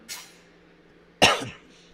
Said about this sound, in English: Sorry about this random cough.